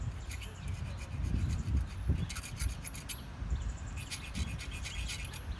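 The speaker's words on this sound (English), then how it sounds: "we can use a file, a metal file, in order to, you know, one by one," A metal file rasps across the teeth of a bow saw blade during sharpening, giving steady close scraping strokes in a repeating rhythm, with faint chirps in the background.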